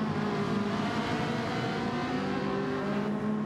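Ferrari race cars in Gran Turismo 7 roar along a track together, their engines a steady, dense drone that holds a constant pitch and loudness throughout, with no voices.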